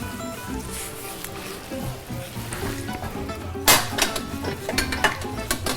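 A whole chicken stuffed with rosemary and lemon set onto a metal roasting pan, with several sharp clanks and knocks of the pan being handled close by over a steady low kitchen hum.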